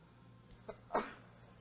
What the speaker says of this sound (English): As I sneeze into my elbow,